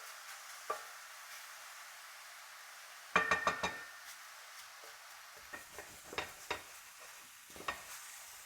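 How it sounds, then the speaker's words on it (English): Browned vegetables for a vegan bolognese sizzle faintly in a pan, with a burst of scraping and clinking strokes midway and more scattered scrapes near the end. "I'm essentially scraping all of these glorious bits"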